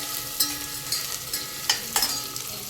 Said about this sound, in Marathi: ॲड करायचे कांदे, मिक्स करून घ्यायचे आपल्याला।